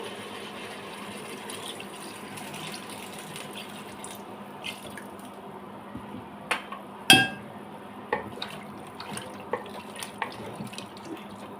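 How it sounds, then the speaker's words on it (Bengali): Water pours into a pan of browned beef head meat with a steady splashing rush, then a few clinks and drips follow, close by and with no speech. "আমি এখন 2 কাপ পরিমাণ পানি অ্যাড করে দিচ্ছি।"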